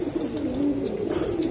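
Giribaz pigeons coo steadily at a pigeon seller's, a continuous low, throaty murmur of overlapping calls close by with no speech.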